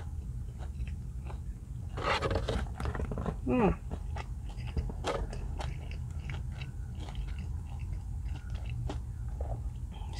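Someone bites into hot, crunchy fried chicken fingers dipped in sauce, giving a few close, crisp crunches followed by steady chewing, with light talk and background noise around it.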